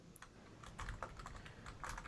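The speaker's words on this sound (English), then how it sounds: "you get to hear my 70 words per minute typing right here" Fast typing on a computer keyboard comes through as quiet, rapid clicks and clacks in bursts, with no one talking.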